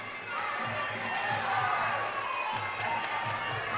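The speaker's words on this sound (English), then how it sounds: "Justin Troy with a tremendous cheering section here in the Broad Street Ballroom" A crowd cheers for a boxer at the Broad Street Ballroom during a fight night. The steady roar of voices and shouting sits at a moderate level, with talk over it.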